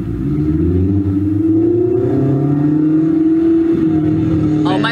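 The engine of the Aurelio, a rear-wheel-drive mid-engine Filipino supercar, revs loudly up close, its exhaust note climbing in a smooth rising drone, and a brief voice cuts in at the end.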